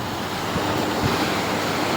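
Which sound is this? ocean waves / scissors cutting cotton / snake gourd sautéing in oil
ocean waves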